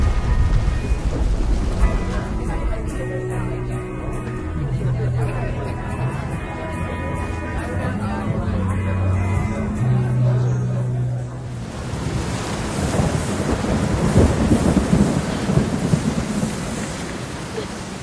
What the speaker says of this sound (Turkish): Burada yağmurdan korunabiliriz.